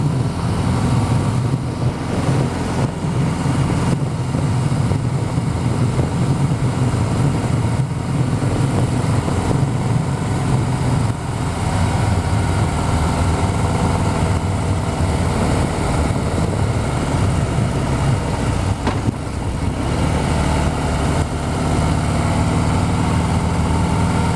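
A motorcycle with a 110 engine on an 883 frame runs at a demo day, a loud, steady engine drone holding for the whole stretch with slight swells in pitch and no voices.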